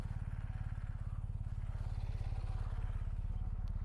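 Steady low motorcycle engine thrum from a bike riding past on a bridge, a continuous rapid pulsing drone at moderate distance, fairly faint and unbroken throughout.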